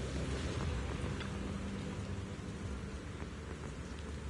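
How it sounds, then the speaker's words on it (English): Heavy rain pours steadily in Zenless Zone Zero, with low rumbling thunder rolling underneath; dense, continuous downpour fills the scene, loud and close, with no voices. "Oh, even more rain."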